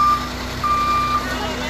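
A big cleanup truck reversing amid hurricane debris in Florida, its backup alarm sounding loud, high, steady beeps over a low engine hum, with voices nearby.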